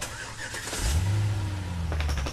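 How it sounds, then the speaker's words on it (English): Car in the Emily Wants to Play Too horror game, its engine starting up and revving into a steady, close drone that holds loudly to the end, with no talk over it. "Driving in my car and going to work."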